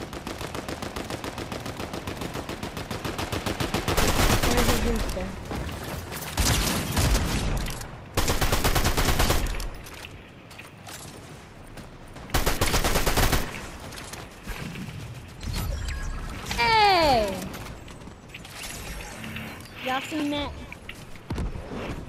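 Automatic gunfire from a bot in a trio squads battle royale video game, coming in several loud bursts separated by quieter stretches, with people talking over and between the shots.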